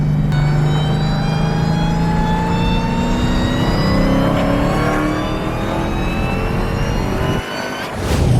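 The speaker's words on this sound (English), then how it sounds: "Oh, the whine from the blower." A lowered Dodge Hellcat accelerates hard, its supercharger whine climbing steadily in pitch over a loud, close engine roar, then easing off near the end.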